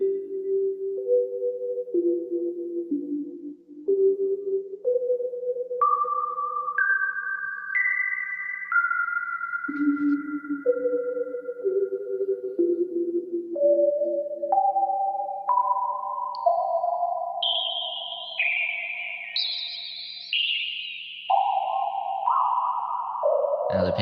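Eight sine waves on a modular synthesizer drift apart in pitch, forming a smooth shimmering cloud of pure tones that glide and step from low to high, steady and fairly loud throughout with no voices.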